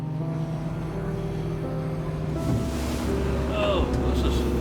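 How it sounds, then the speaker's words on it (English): Wind blows at a seaside harbor at low water near the breakwaters, a steady broad roar of gusts buffeting the microphone with faint surf underneath. "this is a woo, jeez, a little breezy here"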